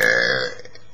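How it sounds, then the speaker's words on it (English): One big, loud, close burp after eating Doritos Collisions Pizza Cravers chips, a deep voiced belch that trails off within half a second. "I'm eating these Doritos Collisions, Pizza Cravers, and those make me have really big burps"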